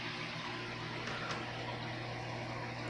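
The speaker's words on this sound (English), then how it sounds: "the power head, a kedsun, 550 gallons per hour. It's got good flow coming out." A Maxi-Jet Kedsun aquarium powerhead rated at 550 gallons per hour circulates tank water with a faint, constant motor hum under a soft, steady wash of moving water, with no talk.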